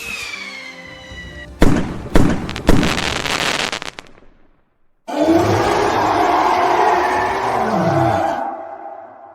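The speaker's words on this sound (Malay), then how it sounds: "Hidupkan bunga api merah." Red fireworks burst in the Roblox game Brookhaven: an opening tone, then several sharp booming pops, a short pause, and a long loud crackling, whooshing shower that cuts off abruptly.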